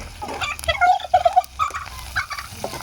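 Chickens cluck and call in short, bright bursts, with several separate squawks over a few seconds against a low background hum.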